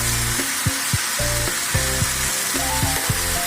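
Ground coriander, cumin and sugar frying and being stirred in a pan for an ash gourd curry, a loud continuous sizzle broken by repeated scraping strokes of a spoon, close up and without speech.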